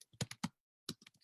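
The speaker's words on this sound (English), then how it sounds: "Oh, I guess, okay, I'll type it." Typing on a computer keyboard, a close, soft burst of several key taps, a short pause, then another quick run of taps, with no talking.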